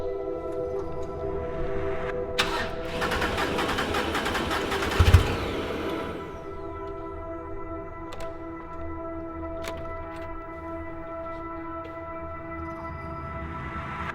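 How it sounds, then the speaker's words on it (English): A Porsche GT3 RS engine with a fault cranks roughly for a few seconds with an uneven, labored churn and a sharp knock, then catches and settles into a steady idle. "It definitely don't sound like it's cranking good"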